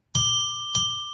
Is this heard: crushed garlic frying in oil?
no